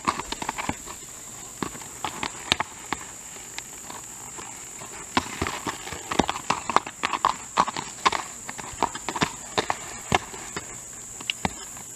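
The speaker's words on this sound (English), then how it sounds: "big pretty smoky black walking horse gelding" An 11-year-old smoky black walking horse gelding's hooves clop at a steady walking pace, close by, with a constant high insect hum behind them.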